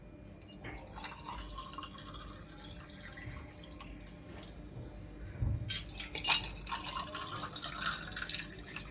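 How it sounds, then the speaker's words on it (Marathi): Homemade lemon sharbat poured over ice cubes into three glasses, heard as faint, close liquid splashing and trickling, with a few louder splashes and clinks toward the end. "तिन्ही ग्लासमध्ये मी एक एक आईस क्यूब टाकला आणि छान असं ह्याला मिक्स करून आपण ओतून घेणार आहोत"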